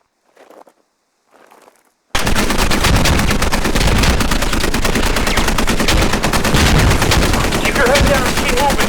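Gunfire from a live fire exercise in the video game Squad: after two faint voice bursts, a sudden wall of loud, continuous automatic fire and overlapping shots holds steady through the rest of the clip.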